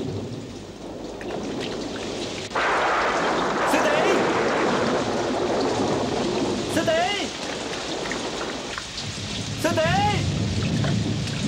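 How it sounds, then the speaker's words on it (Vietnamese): Heavy rain pours down outside in a thunderstorm, with thunder rumbling beneath a steady, loud hiss, while a few shouted voices and vocal cries rise over it. "Ở ngoài mưa lớn như vậy sư tỷ sẽ có nguy hiểm đó."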